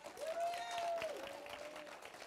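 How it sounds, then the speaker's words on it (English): Church congregation clapping hands in praise, a steady wash of claps under a long held musical note, fairly faint and even throughout. "Get the Lord a hand clap praise then."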